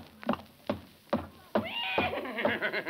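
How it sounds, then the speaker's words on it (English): In a 1946 radio comedy broadcast, hooves clop in a steady rhythm, three or four heavy steps, then a horse lets out a loud, shrill whinny that trails into snorting. "Good heavens, there is a horse in the kitchen."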